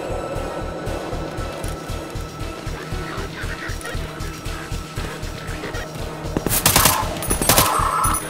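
Rapid automatic machine gun fire in the game Garry's Mod rattles in a steady rhythmic burst throughout, loud and close, with sharper cracking shots layered in near the end.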